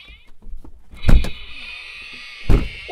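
A door opens with a high, sustained creak running under two heavy thuds, one early and one late, in an otherwise quiet room.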